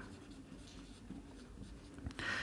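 Pen writing out a tangent equation for a maths lesson, a faint, continuous close scratching on the page with a slightly louder stroke near the end.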